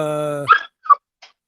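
Puppies bark in a loud, high-pitched sustained yelp followed by two or three short, sharp yips with brief silences between, close by.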